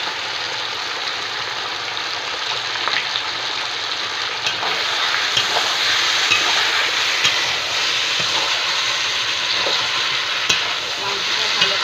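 Chicken fries in a pot with ground tomato paste, giving a loud, continuous close sizzle with scattered clinks and scrapes of a stirring spoon.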